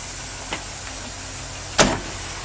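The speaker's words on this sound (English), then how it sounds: "Go ahead and open up the hood." A hood being opened on a 2002 GMC 6500 dump truck with an 8.1-liter gas engine, heard as a faint click and then one short, loud clunk partway through, with no talking.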